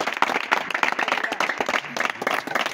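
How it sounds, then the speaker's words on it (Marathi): An audience claps together to welcome a speaker at a gathering, giving a dense, lively patter of many hands that continues throughout the clip. "सगळे टाळ्या वाजून या भाऊचं स्वागत करा।"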